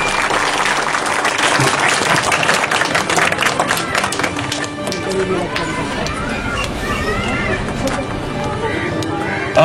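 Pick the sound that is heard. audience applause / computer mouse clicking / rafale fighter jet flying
audience applause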